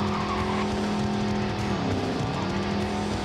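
A modded car with a race-car look, small rear wing included, drives along a highway in Cyberpunk 2077, its engine giving a steady, loud, close drone that shifts pitch partway through, with faint tire noise and no talking.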